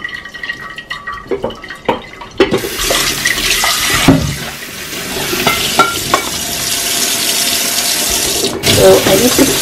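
Cooked pasta being tipped from a pan into a strainer, a loud rushing pour of water that starts after a few metal clanks and rolls on steadily, with faint talk early on.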